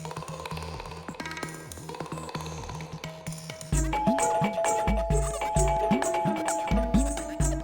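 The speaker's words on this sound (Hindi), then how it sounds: "क्या टनन टनन बेल बजा रहे हो लगातार" A doorbell chimes over and over in quick succession, ringing tones stacking up insistently, growing louder partway through.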